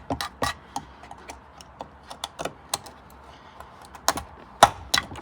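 A plastic trim removal tool prying at a plastic trim clip inside a Toyota Verso, heard as sparse, sharp clicks and ticks scattered at an irregular pace against a quiet background, with no talk.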